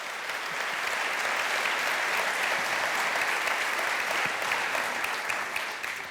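An audience at the Slovenian Chamber of Commerce awards ceremony breaks into sustained applause, a thick, even wash of many hands clapping throughout, fading slightly at the very end.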